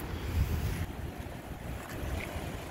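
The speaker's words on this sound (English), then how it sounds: "they got a lot of waves coming through" Ocean waves rolling in along a Hawaiian shore, a steady rushing wash of surf with wind buffeting the microphone, continuous and fairly close with no voices.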